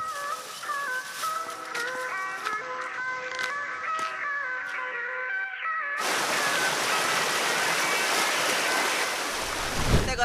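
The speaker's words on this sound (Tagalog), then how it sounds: "We will reach the cascading waterfall at San Benigno" A cascading waterfall in Aglipay, Quirino pours as steady broadband rushing noise that swells in partway through, following a stretch of background music.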